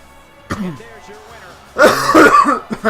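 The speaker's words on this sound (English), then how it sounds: "Please excuse my disgusting cough." A harsh cough bursts out, with voices heard before and after it.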